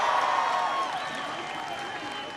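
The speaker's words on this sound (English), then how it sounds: "Give Josh a big round of applause." A rally crowd applauds and cheers loudly, a dense wash of clapping that slowly tapers off while a voice carries over it.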